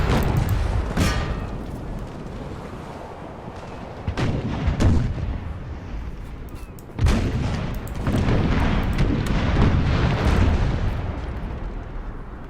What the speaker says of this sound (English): I think one more full volley of cannons, and we could absolutely sink the enemy.